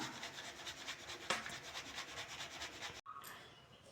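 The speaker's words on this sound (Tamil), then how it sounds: "இப்போது கடலை மாவை சளிச்சு எடுத்துக்கலாம்" Gram flour is sifted for Mysore pak, making a soft, steady rhythmic rubbing and scraping close by that stops abruptly near the end.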